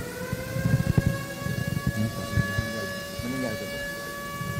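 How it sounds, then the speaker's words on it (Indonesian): A civil defense siren in South Sulawesi sounding as a signal that a COVID-19 patient has died, its steady sustained tones holding throughout while low rumbling and indistinct voices carry on underneath. "kita barusan mendengarkan sirine itu adalah tanda ada pasien yang meninggal"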